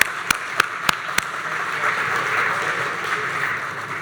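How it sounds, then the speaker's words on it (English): Applause from a lecture audience for a translator, beginning with a few sharp distinct claps and settling into a soft, distant wash of clapping. "Let's give them a round of applause,"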